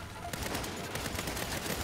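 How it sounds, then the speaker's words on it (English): Enemy gunfire in the Saints Row video game during a train heist: a steady, dense fusillade of rapid shots crackling continuously throughout, loud and close. "they're shooting me from the sides"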